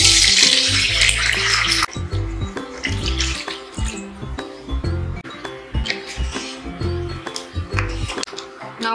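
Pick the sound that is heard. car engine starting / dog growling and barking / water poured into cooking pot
water poured into cooking pot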